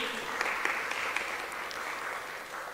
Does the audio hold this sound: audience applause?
yes